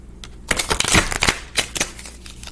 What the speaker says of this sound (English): So let me shuffle up the Moonology deck real quick.